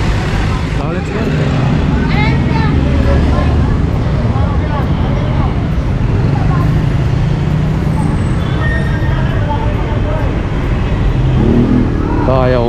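A vehicle engine cranks and catches, then idles and revs on a roadway with traffic noise around, while people talk over it throughout.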